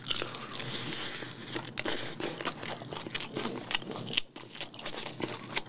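Close-up crunchy bites and chewing of a Burger King Peanut Butter Stacker burger, with crisp crackles and irregular crunches repeating over several seconds.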